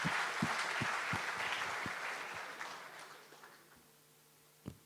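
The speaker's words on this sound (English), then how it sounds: "So a big round of applause." A crowd claps steadily, then the applause thins out and fades, ending with a single sharp clap.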